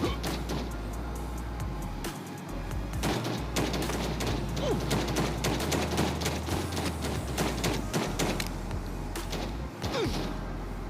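A pistol duel in the game Lost Light: repeated sharp gunshots crack in quick irregular bursts over a steady low rumble, fairly close, with no talk.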